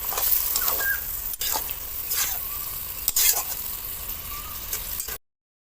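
Fried fish and ridge gourd sizzle in a pan while being stirred, a continuous close frying hiss with several spatula scrapes, ending abruptly in silence.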